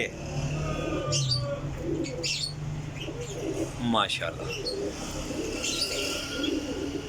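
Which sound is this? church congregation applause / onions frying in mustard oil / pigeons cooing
pigeons cooing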